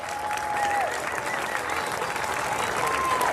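Audience applause rings out for winners at a closing ceremony, a steady wash of clapping from a crowd at moderate distance, with a voice briefly heard over it.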